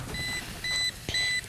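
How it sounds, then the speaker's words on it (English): Meatrix kitchen device beeping at home while steaks cook: three bursts of clear, high electronic tones, each a short chord of steady pitches, the second and third longer, close by over a faint low background. "Now the Meatrix tells me to stop the beep."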